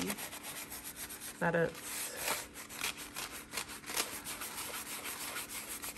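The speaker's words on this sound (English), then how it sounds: "And just gently rub it. So you're going to rub that excess off" Paper being gently rubbed to remove excess medium, a steady dry scratchy rubbing close by that runs throughout, with one brief louder scrape partway through and a few muffled words spoken.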